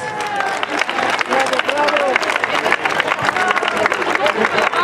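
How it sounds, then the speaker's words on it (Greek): Audience applause for the volunteers at the Saint Anthony feast festival in Thessaloniki, a dense, loud wash of clapping with crowd chatter and cheering mixed in throughout. "χειροκρότημα για τους εθελοντές μας"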